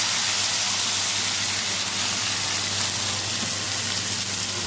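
Onion, ginger-garlic paste, curry leaves and coriander sizzle in hot oil in an iron kadai for a homemade prawn gravy. The frying hiss is loud, close and steady and runs the whole time with no talk.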